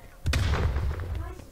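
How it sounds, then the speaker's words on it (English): A stun grenade detonates in the Call of Duty Black Ops Cold War multiplayer game, a sharp close burst that rolls into a sustained low rumble and crackle, with a player's voice talking over the blast. "Stun grenade out."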